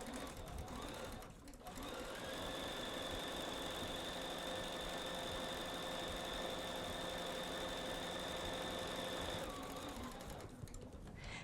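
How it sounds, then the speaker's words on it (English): A Bernina 770 sewing machine stitches a quilting seam at steady speed, a fast mechanical whir with a constant hum that starts, runs for about eight seconds and stops, quiet and close. "So let's go sew that right now. I'm sewing with the Bernina 770 today."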